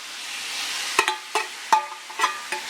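Seasoned curry shrimp hitting a hot pan over high heat, with a steady frying hiss and several sharp clatters of stirring, fairly close and loud with no talk.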